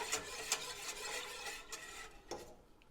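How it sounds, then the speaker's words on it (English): A whisk stirs sweetener into a liquid for a beetroot salad, giving light, quick clinks and taps against the bowl over a soft wet swish. It is fairly quiet and close, with no talking. "So I'm going to just whisk this together a bit, and we are just dissolving the sweetener in here."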